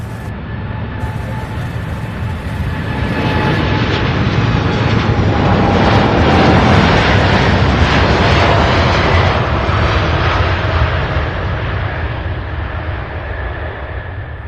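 A heavy Boeing 747-8 near its maximum takeoff weight roars down the runway and climbs out at Louisville airport, a loud, sustained jet engine rumble that swells to a peak and slowly eases, with no talking.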